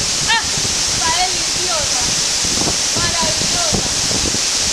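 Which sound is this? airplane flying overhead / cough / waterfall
waterfall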